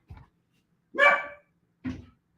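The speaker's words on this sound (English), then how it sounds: "so I don't know why she's barking" A dog indoors gives a short low woof, then a louder sharp bark and another brief bark, close and alone with quiet gaps between.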